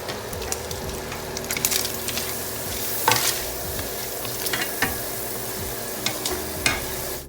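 Shrimp seasoned with salt and pepper fry in a pan while being mixed, making a steady crackling sizzle close by, with sharp spatula scrapes and clicks scattered through it and no talking.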